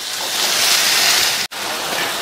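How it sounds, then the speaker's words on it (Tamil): Mushrooms sizzle in a pan over a medium flame, a loud, steady broadband hiss with one brief dropout partway through and no talking. "மீடியம் ஃப்ளேம்ல வச்சு ஒரு 3ல இருந்து 4 நிமிஷத்துக்கு வதக்கிக்கலாம்"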